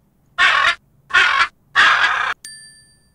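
Crow caws from a children's learning toy: three loud, near, evenly spaced harsh calls, followed by a short ringing chime.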